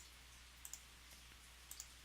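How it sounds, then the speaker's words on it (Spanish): Mouse clicks in photo editing software, two quick double clicks about a second apart, crisp and close over a low steady hum. "doy un clic"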